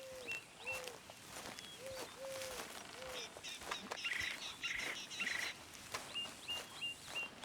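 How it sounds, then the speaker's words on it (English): Wild birds call in the Red Dead Redemption 2 video game: a series of short, rising whistled chirps repeat at moderate distance over a soft outdoor ambience, with a brief cluster of brighter trills midway. "The birds are talking."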